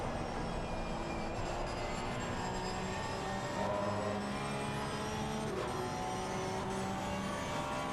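Porsche GT3 Cup car engine heard from the cockpit in a racing video game at Silverstone, a loud sustained drone with layered tones that rise and shift as the car accelerates and changes gear, with no talk.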